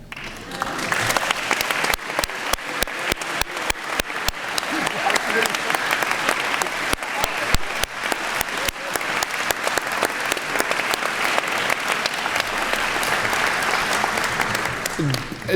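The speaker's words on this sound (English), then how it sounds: "Dick, we're clapping for you on your honorary alumni status" Sustained applause from an audience at a university celebration honoring a new honorary alumnus, dense steady clapping from many hands throughout, close and full.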